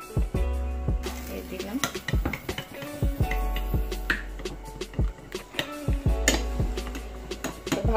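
Spoon stirring tomato ketchup into Thai prawn soup ingredients in a pan, with repeated metallic scrapes and knocks against the pan over a low steady sizzle, close and fairly clear, no talking.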